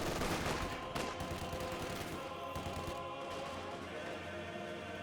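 An MG42 machine gun fires in Company of Heroes 2 in rapid, sustained bursts, mixed with other battlefield gunfire that stays dense and loud throughout.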